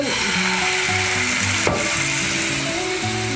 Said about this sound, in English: Gonna add some nice PX sherry, a little in the pan